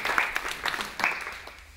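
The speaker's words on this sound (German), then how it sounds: "Erstmal einen großen Applaus" Brief applause from a lecture audience, a short burst of scattered clapping at moderate distance that quickly thins out and fades within two seconds.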